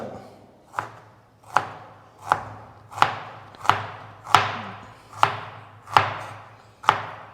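A knife chops through an onion on a board in slow, even strokes, about nine sharp knocks spaced under a second apart, close and clear with no talking.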